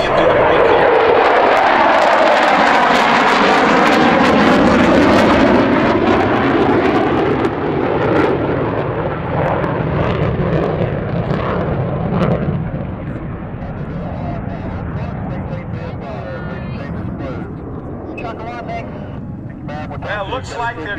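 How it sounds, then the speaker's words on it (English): Military jets roar past at the Thunder Over Michigan 2019 air show, a loud, broad engine rush with sweeping pitch shifts that gradually fades and thins as the planes move away, with a public-address voice faintly underneath. "Watch for the break as these two airplanes that are close together will set up for landing"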